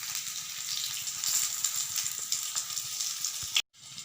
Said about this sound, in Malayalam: ബാക്കിയുള്ളതും കൂടെ നമുക്കിനി ഇതുപോലെ ഫ്രൈ ചെയ്തെടുക്കാം.